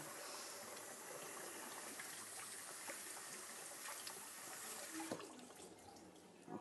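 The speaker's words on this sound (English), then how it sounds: "I'm washing my hands again" Hands being washed under a running kitchen sink tap while preparing a roast chicken, a steady close hiss of flowing water with small splashes and a brief clatter near the end.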